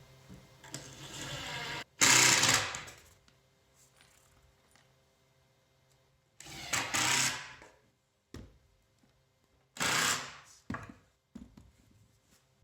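A power drill drives screws through pocket holes in plywood for kitchen cabinets. Several whirring bursts come from close by, each a second or two long, with quiet gaps between them.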